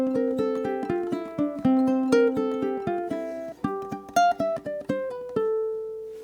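A ukulele plays 12-bar blues licks up the neck, a steady run of plucked notes with clear attacks and ringing harmonics, close and solo, ending on a sustained held note.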